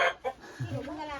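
A rooster clucks close by in a few short, throaty bursts, the first sharp and the last drawn out.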